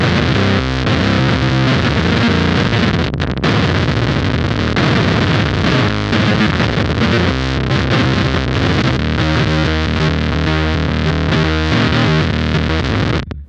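Electric guitar on the bridge pickup played through a Beetronics Whoctahell low octave fuzz pedal set at halfway on every control, loud, thick distorted riffing with choppy rhythmic stabs, no talk.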